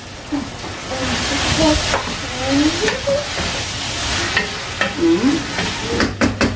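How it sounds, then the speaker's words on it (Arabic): Onions sizzle in oil in a pan as a spoon stirs them, with repeated scraping strokes over a steady hiss. "وهلا بنقلب البصل، كل ما بينشف معكم بتحسوا انه محتاج زيت، ضيفوا زيت"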